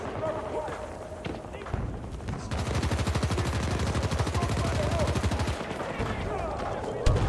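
Rapid automatic gunfire from a video game, a dense rattling burst of shots fired at an enemy lasting several seconds, loud and close, with bits of other game noise around it.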